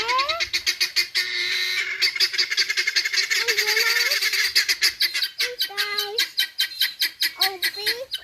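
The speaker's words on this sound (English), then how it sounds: "Let's see if the guinea fowl will be quiet for 30 seconds so that we can get some of this done." Guinea fowl calling loudly and close in rapid, repeated harsh cackling bursts, a rhythmic chattering that keeps going for several seconds before breaking into shorter honking calls.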